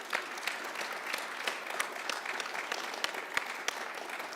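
A modest audience applauds at the close of an evening conversation event, an even patter of many hands at moderate distance with a few sharper individual claps standing out near the end.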